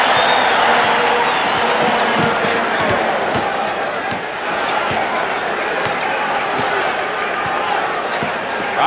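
Basketball crowd at an NBA Finals game, Houston Rockets at Boston Celtics, a loud continuous arena roar with sneaker squeaks and ball bounces, and a commentator talking over it.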